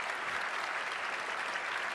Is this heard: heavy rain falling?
no